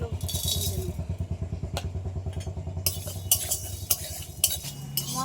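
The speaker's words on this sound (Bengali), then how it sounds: "খালি কড়াইতে কিছু মশলা ভেজে নেব" Whole spices such as dried chilli, cardamom, cloves, cinnamon, mace, cumin, black and white pepper and coriander are dry-roasted in an empty wok. A spatula scrapes in quick, rhythmic strokes, then loose clattering knocks follow, close and moderately quiet.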